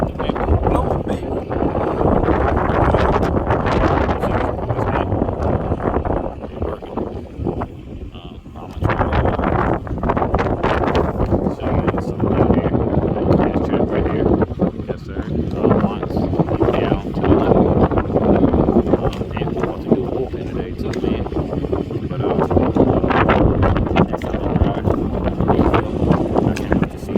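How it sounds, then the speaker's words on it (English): Heavy wind gusts buffet the microphone outdoors at tennis courts during a youth baseball practice, a loud continuous rumbling roar that drops briefly near the middle, with voices faintly mixed in. "if y'all hear a lot of wind blowing around, the Gust"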